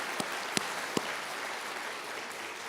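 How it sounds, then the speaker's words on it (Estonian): A few isolated claps ring out in a quiet hall during a Supreme Court chief justice's address to Estonian judges, applauding Rutt for her digitalization work; three sharp separate claps early, then sustained soft background clapping. "Aitäh, Rutt, sulle teeme Rutile aplausid"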